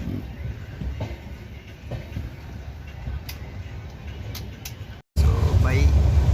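Inside a general coach of the Avantika Express, a running train gives a steady rumble with faint rhythmic clicks. After a brief cut it turns into a louder, closer roar under talk and crowd noise.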